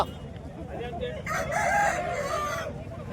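A rooster crows once at a hen market, loud and close, its long call rising and falling over faint background murmur.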